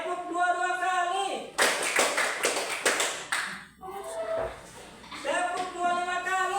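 Hand claps in a classroom counting exercise come as a close, brisk cluster of sharp slaps, with chanting voices leading in and picking up again afterward.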